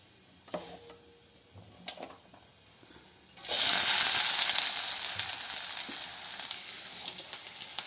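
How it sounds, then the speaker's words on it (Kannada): Onion and spices hit hot oil for a tempering of field beans (avarekai), bursting into a loud, steady sizzle after a few quiet clinks and taps, then slowly easing while frying continues nearby. "ಈಗ ಕಾಳಿಗೆ ಒಗ್ಗರಣೆ ಮಾಡ್ಕೊಳ್ಳೋಣ."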